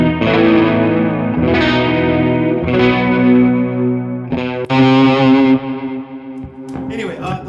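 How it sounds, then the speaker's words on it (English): A clean electric guitar through a Fillmore 50 amp with chorus effect plays sustained, shimmering chords and ringing notes, loud and continuous with swirling modulation and a few string noises near the end. "On a clean sound, the chorus was set."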